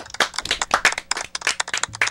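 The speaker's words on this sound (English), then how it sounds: "let's have a big round of applause for JC" Live audience applause for R&B artist Jay Cee on a podcast show: a close burst of scattered hand claps with uneven rhythm, loud and dry, with no talking over it.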